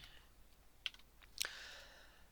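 A few quick keystrokes on a computer keyboard, typing a line of Python code: two sharp clicks about half a second apart with fainter taps around them, close and alone in a quiet room.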